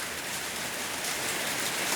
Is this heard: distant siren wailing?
no